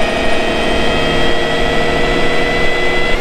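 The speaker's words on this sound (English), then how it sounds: "Generator on." Generator running, a loud steady engine drone with a low rumble and constant tonal hum, close and unbroken throughout.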